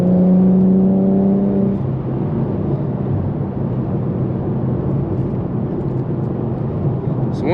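Tuned E85 Infiniti Q50S exhaust accelerating hard, a rising engine drone at first then a steady loud roar and rush of speed, close and continuous, with no talk.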